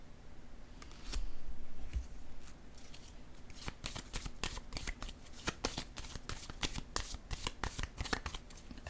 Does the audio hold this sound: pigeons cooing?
no